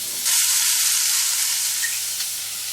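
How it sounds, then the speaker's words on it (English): Chopped onions hit a hot pan where meat is already cooking, setting off a loud, steady sizzle and frying hiss that swells as they go in and carries on throughout without any talk. "We'll shove in our onion."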